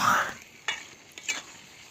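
Beef and potatoes are stirred in a pot on a clay stove, a soft sizzle broken by a few distinct scraping strokes of the spoon.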